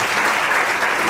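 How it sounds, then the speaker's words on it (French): Loud, dense applause from wedding guests at a civil marriage ceremony, filling the room as a steady roar of many hands clapping. "Une fois de plus, vos acclamations,"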